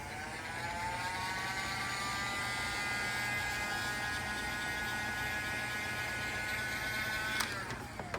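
A handheld dryer steadily whirs and buzzes while drying a Polycryl paint colour sample, a close, continuous mechanical hum that cuts off near the end.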